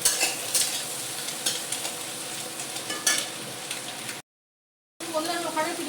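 Onion, capsicum and green chillies fry for chilli chicken, a continuous close sizzle with spatula stirring and clinks against the pan, cutting to silence briefly before resuming.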